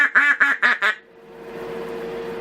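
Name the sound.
raspy quack from a custom duck call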